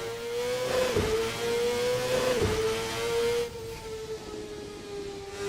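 A Formula racing car engine in a VR racing video game, Formula NA 1999 series, whines at a steady high pitch with two brief shifts in tone, loud and continuous throughout.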